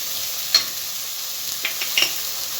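Vegetable chow mein stir-fried in a pan over a lowered flame, a steady sizzle with a few sharp clicks and scrapes of the spatula against the pan, close and on its own with no talking.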